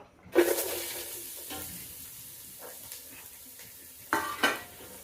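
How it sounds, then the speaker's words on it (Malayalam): Chopped onions hit hot coconut oil in a pan, giving a close sizzle with bursts of stirring and scraping of a utensil against the pot, loudest at the start and again near the end. "വെളിച്ചെണ്ണ ഒഴിച്ചു കൊടുത്ത് ഇതിലേക്ക് നമുക്ക് ഇതാ ഈ ഉള്ളി അരിഞ്ഞത്"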